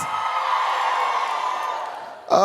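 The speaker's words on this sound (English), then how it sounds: "Somebody over there shouted a little too loud." An audience at a Big Brother University comedy event shouts and whoops in a sustained loud cheer, followed by a brief sharp burst at the end.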